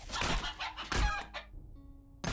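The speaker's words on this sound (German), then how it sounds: "da ist ein Huhn" A chicken in the survival video game 7 Days to Die gives a few quick clucks and squawks, close and fairly loud, ending with a short thunk.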